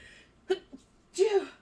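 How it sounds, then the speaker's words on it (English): A single sharp sneeze bursts out near the end, preceded by a couple of soft vocal sounds and a quick intake of breath. "the sneeze came out of nowhere"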